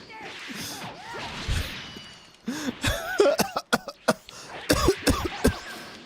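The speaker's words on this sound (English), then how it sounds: "I'm coughing" A string of harsh, rough coughs, several in quick succession, mixed with throaty vocal noises after a quiet opening.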